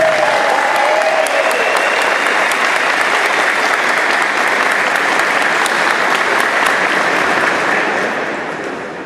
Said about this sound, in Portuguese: parabenizar a Francine com uma grande salva de palmas